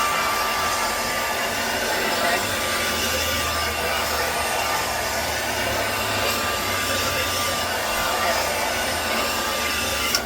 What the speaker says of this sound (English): You're gonna take your blow dryer,